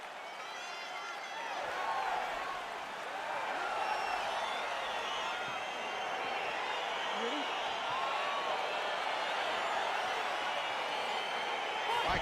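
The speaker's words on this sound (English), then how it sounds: "crowd getting excited as this fight gets underway" Arena crowd in EA Sports UFC 4 cheering and murmuring as a K1 rules fight begins, a steady wash of excited noise that swells slightly and holds throughout.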